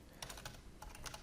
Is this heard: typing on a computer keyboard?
yes